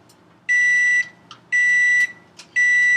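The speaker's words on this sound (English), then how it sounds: "there's my timer" A kitchen timer beeps while cheesecake glaze is being made, giving three bursts of rapid, piercing high-pitched bleeps about a second apart, loud and close, with faint clatter in between.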